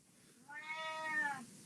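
A cat gives a single drawn-out meow, clear and tonal, rising and falling over about a second against quiet room background.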